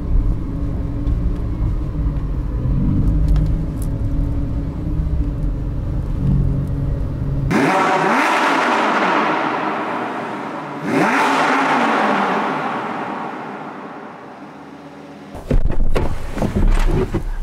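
A Lamborghini Huracan STO revs hard, a loud engine hum giving way to two sharp rising blips that sweep up and fall back, then a sudden loud burst at the end.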